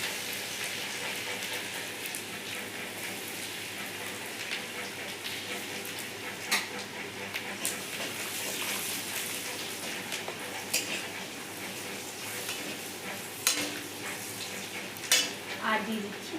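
Chopped garlic and whole cumin frying in oil for dhaba-style chicken makhani, a dense continuous crackle with occasional sharper pops and clinks, steady and close, with no talking.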